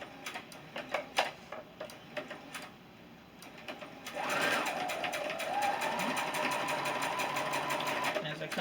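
A sewing machine stitches pieces of a nine patch quilt block, its needle hammering in a steady rapid run for the last few seconds after earlier clicks and handling noise.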